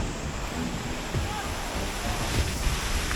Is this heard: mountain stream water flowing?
yes